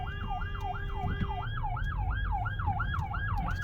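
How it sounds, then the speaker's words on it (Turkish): An ambulance siren approaching from behind wails in a steady repeating rise and fall, fairly close, over the rumble of a moving Opel Insignia in city traffic. "Bu arada arkadan ambulans geliyor."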